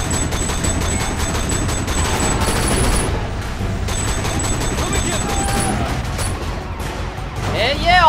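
Rapid gunfire in the Sleeping Dogs video game fight scene, dense and loud throughout, mixed with a siren and someone talking over it.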